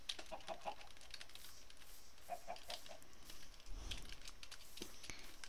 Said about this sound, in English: Evil chickens without eyes.